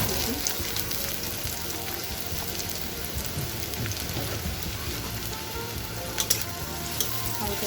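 Chopped onion and garlic sizzle in hot oil in a pan, a steady close crackle and hiss with a few brief clinks near the end.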